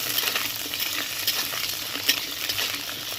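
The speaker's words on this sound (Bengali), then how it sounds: "প্রথমে দিয়ে দিচ্ছি কাঁচকলা প্রত্যেকটা আলাদা আলাদা ভাজতে হবে" Raw green plantain pieces fry in hot oil for a shukto: a dense, even sizzle close to the pan, with faint clinks and stirring touches scattered through it and no voices.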